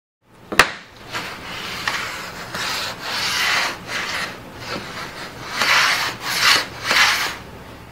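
Dry scraping and rubbing strokes across unfinished engineered red oak floorboards, several uneven passes back and forth, close and fairly loud, with a sharp knock near the start.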